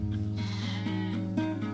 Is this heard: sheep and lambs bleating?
yes